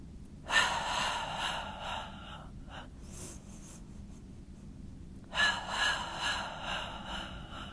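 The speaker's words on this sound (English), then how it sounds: "Inhale 5 counts. Exhale 5 counts." Deep, audible breaths during a Pilates mat workout, with a long inhale or exhale near the start and another after a pause, each a soft, breathy rush with quieter breathing between.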